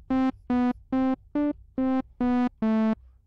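Seven separate FM synthesizer notes played in a steady rhythm, each starting cleanly on pitch without glide, with short silences between them.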